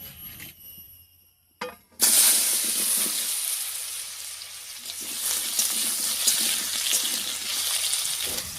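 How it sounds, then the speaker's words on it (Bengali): Potatoes fry in oil left over from frying ridge gourd fritters, a steady close sizzle and crackle after a few brief clinks, continuing evenly with no talk. "বড়া ভাজা তেলের উপরে আলুটা একটু ভেজে নিচ্ছি।"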